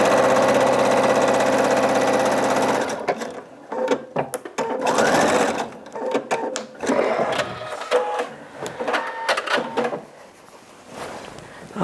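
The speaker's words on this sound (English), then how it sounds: "you're going to finish stitching that side seam" A sewing machine runs steadily, stitching the side seam of a jelly roll race quilt, then breaks into short stop-start bursts of stitching with pauses between, close and fairly loud.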